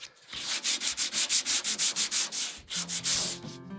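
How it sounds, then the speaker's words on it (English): Sandpaper rubbed along wooden cap rails on a dory boat build, loud, close, rhythmic back-and-forth strokes, about a dozen in steady succession, then a few slower passes. "give these caprails a good going over with sandpaper"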